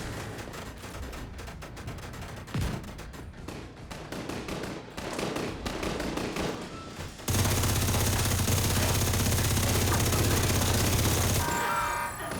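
Gunfire from The Division 2 video game crackles as a busy mix of rapid shots, thickening into a dense, continuous roar of fire and game noise through the second half.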